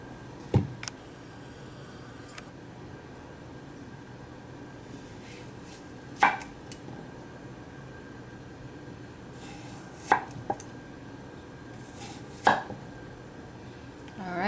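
A Kamikoto Kanpeki kitchen knife chops a cucumber on a board: four sharp, separate knocks spaced a few seconds apart, close and clear over quiet room background.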